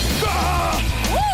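A man yells loudly and at length during the finale of a French Total Wipeout obstacle-course game show. The voice is raised and strained, rises to a sharp cry near the end, and sits over constant crowd and studio noise.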